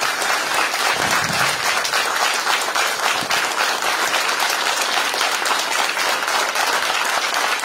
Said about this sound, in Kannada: ನಾಡಿನ ಪರವಾಗಿ ನೀವೆಲ್ಲರೂ ಜೋರು ಚಪ್ಪಾಳೆ ಬರಲಿ ಅವರಿಗೆ ಅಂತೇಳಿ ವಿನಂತಿ ಮಾಡ್ತೀನಿ